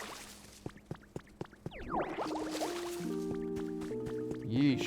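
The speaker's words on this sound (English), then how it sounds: "Why don't we water you up real quick?" Watering a plant in Pokémon Pokopia: a series of soft drips gives way to a bubbly pouring splash, followed by bright tonal game chimes, moderately quiet and with no talking.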